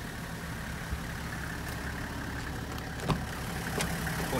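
Hino Liesse II automatic school bus with a 1HZ diesel engine idling, a steady, even rumble held at constant level throughout with no voices.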